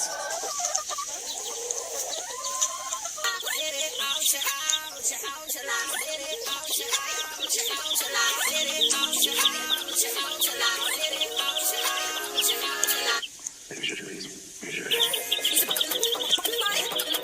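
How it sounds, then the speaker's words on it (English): Chickens clucking loudly and continuously in a flock, a dense, busy chorus of overlapping clucks and squawks close to the listener, filling the whole stretch with no talking. "I can hear the chickens singing again"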